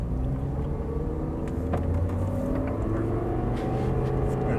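An Audi R8 pulls onto a track, its engine note rising steadily as it accelerates, a rumbling, climbing drone heard up close without anyone talking.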